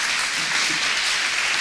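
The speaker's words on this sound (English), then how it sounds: "on peut applaudir Antoinette" An audience claps for a guest at a Paris talk event, a dense even burst of applause lasting under two seconds.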